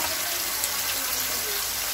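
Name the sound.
pouring two glasses of water into cooking pot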